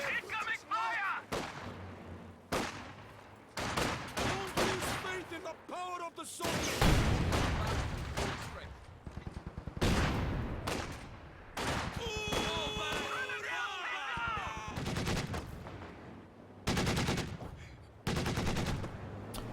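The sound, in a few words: gunfire from Company of Heroes 2 video game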